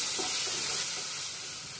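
Ground cumin paste is sautéed and stirred in a frying pan for egg curry, producing a loud, continuous hissing sizzle close by with no voices.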